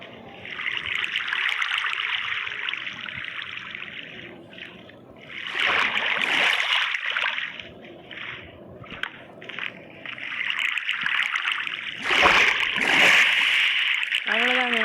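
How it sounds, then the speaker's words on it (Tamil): Water poured and flowing in the Minecraft video game, a steady splashing trickle that pauses and returns several times, with someone talking over parts of it. "இதில் வந்து தண்ணி ஊற்றிட்டுருக்கேன்."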